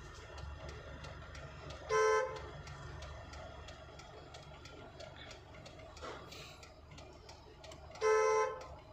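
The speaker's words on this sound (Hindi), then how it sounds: "ज़्यादा तेज हॉर्न मत बजाओ" Two short car horn honks, a few seconds apart, ring out over a quiet background hum and faint ticking.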